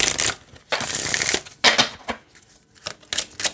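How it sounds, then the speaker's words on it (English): Oracle cards from an animal companion deck being shuffled by hand: several bursts of riffling and sliding card noise separated by short pauses, close and fairly loud, with no talking. "sometimes the shuffle kind of sticks, but I'm not having an issue with it with this one"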